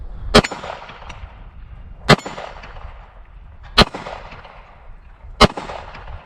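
Four .45 ACP pistol shots strike a steel MGM popper target outdoors. Each is a sharp, ringing clang with a short decay, spaced about a second and a half apart against a quiet background.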